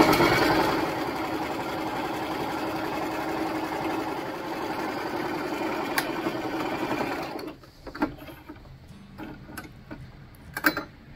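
A sewing machine stitches fabric for a vintage 1969 Shasta camper, running steadily and loud for about seven seconds, then stopping, followed by quieter clicks and handling noises.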